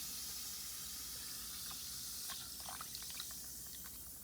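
A Zuru Smashers dinosaur egg fizzing in lukewarm water, a soft continuous hiss with faint bubbling and small pops, close and quiet, without voices.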